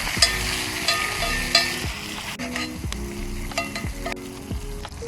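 Butter sizzling in a pan on a stove inside a camper van, a bright steady frying hiss layered with a few sharp clinks and a low repeating mechanical hum.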